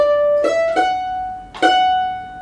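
Mandolin picking part of a song, a few clear plucked notes in a slow waltz rhythm, each attack bright and then ringing out, played solo up close.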